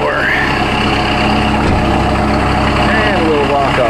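A Kubota 5740 tractor engine idles close by with a steady, loud low rumble that holds even throughout, with a faint whine riding on top.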